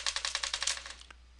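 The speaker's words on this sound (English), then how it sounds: "That's, by the way, the sound of me banging on my keyboard" Someone bangs rapidly on a computer keyboard: about a dozen sharp, close clacks in quick rhythm that slow and fade into a few last taps, with no voices.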